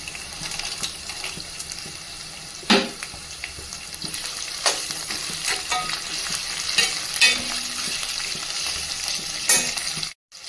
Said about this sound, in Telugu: నెక్స్ట్ శనగపప్పు వేసుకుందాం